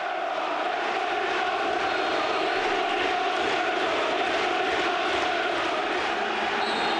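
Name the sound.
stadium crowd's minute's applause before FA Cup semi-final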